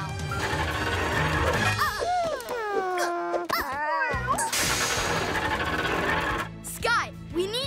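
Cartoon cats meow and hiss in a chaotic rescue scene, wavering cries rising and falling over busy background music and effects, fairly loud throughout.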